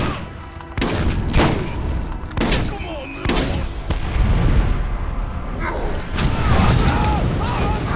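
Sniper rifle shots fire in the video game Borderlands as sharp, loud blasts spaced irregularly every second or so. They sit among game effects and other in-game noise.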